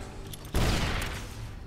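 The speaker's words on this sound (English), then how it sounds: "I don't know what is shooting that." A burst of gunfire in Fallout New Vegas opens with a sharp, loud report, then a decaying rumble and echo, heard alone.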